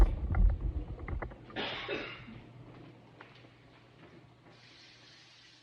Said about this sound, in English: So I'm gonna wash my hands real quick.